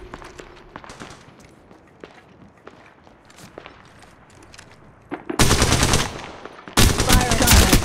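Gunfire in the mobile battle royale Apex Legends Mobile, a couple of loud rapid bursts near the end, preceded by quieter footsteps and small in-game movement sounds.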